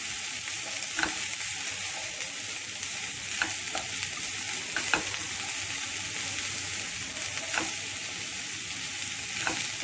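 Shredded cabbage and vegetables for veg momo filling stirred in a hot pan, a steady sizzle underneath with several sharp scrapes and clicks of the spoon against the pan at irregular intervals.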